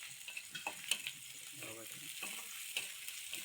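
Food frying in a pan while being stirred, a steady hiss with scattered scraping clicks of the utensil, fairly quiet and close, with no talking.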